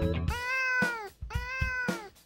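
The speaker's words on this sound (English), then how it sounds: "There is a cat in the barn." A cat meows twice in a children's English learning song, two drawn-out tonal meows close and clear, each with a rising then falling contour, separated by a short break with soft thumps.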